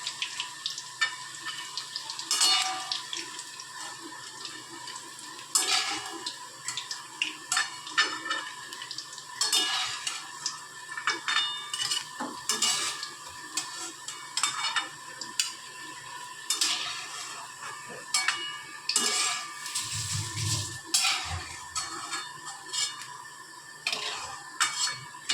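Fish pieces for chilli fish fry in hot oil with a steady sizzle, while a utensil stirs and scrapes the pan in repeated clanks and knocks, close and fairly loud throughout with no talking.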